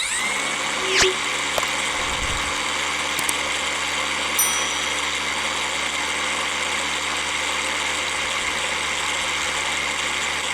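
An ONEVAN cordless battery trimmer spins its blade at a steady high-pitched whine, close and continuous, with a couple of small knocks early on and no talking.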